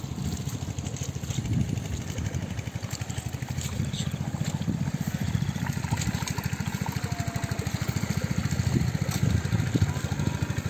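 A boat engine running on Jatigede reservoir on a dark, rainy afternoon, a loud close throbbing chug with a fast steady pulse throughout, water wash underneath.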